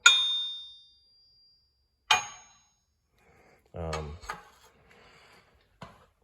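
A brand-new Suzuki crankshaft, for a Samurai race engine, is struck and rings out clearly for about a second. A second strike follows, duller and shorter, and a brief voice and a few light knocks come after.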